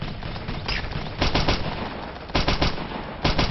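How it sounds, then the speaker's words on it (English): Gunfire in the military shooter game Operation Flashpoint: Dragon Rising, with continuous dense rattling and bursts of louder automatic fire near 1.3 s, 2.4 s and 3.3 s. "The enemy is concentrating fire."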